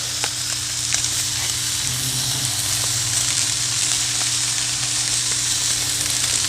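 Butter melting in a pan with corn seasoned with garlic salt, a steady close sizzle and frying hiss that runs evenly throughout with no talking.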